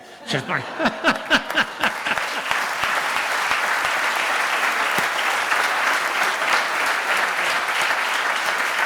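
A crowd at a sports awards night breaks into loud, sustained applause for award winners, a few distinct claps at first swelling into dense, steady clapping.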